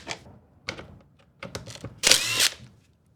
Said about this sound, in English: We're going to get these 7 Allen screws out of here to take this other plastic cover off.